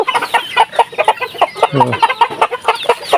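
Pet chickens being fed ripe jackfruit cluck close by in quick, repeated bursts, with overlapping short calls and a brief lower squawk midway.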